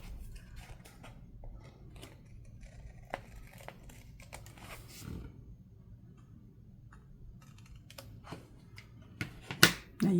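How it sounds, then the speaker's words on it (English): Scissors snip an overhanging paper piece on a junk journal index card, faint close ticks and crinkles scattered through quiet, ending in a few sharper paper clicks. "I'm going to go ahead and come back and cut this overhanging piece"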